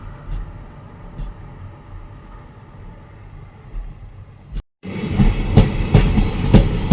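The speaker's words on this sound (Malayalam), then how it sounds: "എനിക്ക് ട്രെയിൻ കാണുന്നുണ്ടോ" A train rolls past a railway station with a steady rumble and faint high chirps, then after a brief gap the noise surges louder with rhythmic clacking of wheels on rails.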